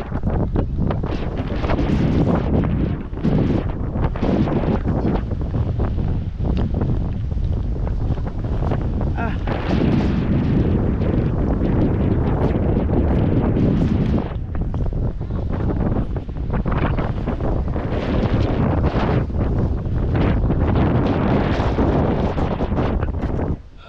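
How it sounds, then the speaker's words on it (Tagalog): Strong wind pounds the microphone nonstop, a loud, dense roar that surges and dips in waves. "Lakas ang hangin."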